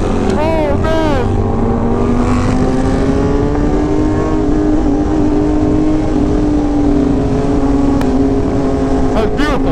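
A motorcycle engine on the road pulls hard, its tone climbing and holding loud and close under strong wind rush for the whole stretch, while riders talk over it.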